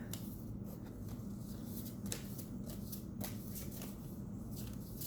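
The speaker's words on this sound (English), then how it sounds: "give them a good shuffle, lay out the tarot" Tarot cards being shuffled close up, a steady papery riffling with soft flicks and taps, continuous and fairly quiet.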